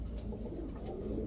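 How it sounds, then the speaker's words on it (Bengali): An old-breed pair of Bagha pigeons coos softly and steadily, a low murmuring call that continues without a break against a quiet background. "পুরা লাট্টু মাথার এক জোড়া বাঘা কবুতর পুরান জাতের"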